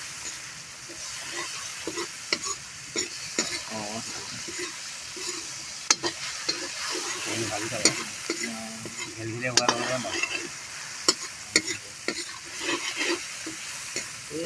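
Onions and tomatoes fry in hot oil in a pan for a meat dish, with a steady sizzle under repeated scraping stirs and clinks of a utensil against the pan, close and moderately loud.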